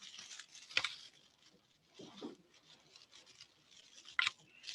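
Dry ti leaves being unwrapped on a table for weaving, giving a few separate crisp rustles and crinkles with quiet pauses between them, close and soft, with no talk.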